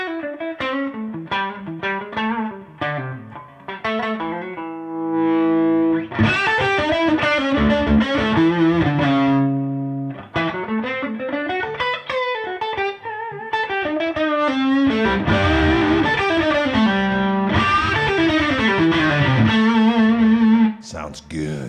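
Electric guitar fitted with a Gristle 90 pickup, run through a high-gain amp with the volume turned down, plays a loud, crunchy run of lead lines and chords that sustains throughout, with no talking.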